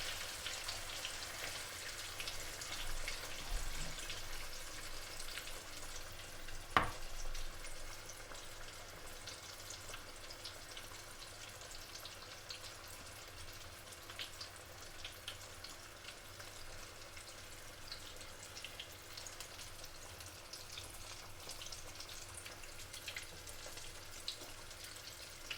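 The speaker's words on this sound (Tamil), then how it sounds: "கொஞ்சம் நேரம் பொரியாட்டு." Prawn fritters frying in hot oil, a faint, steady crackling sizzle that continues unbroken with scattered tiny pops and one brief clink, with no talking.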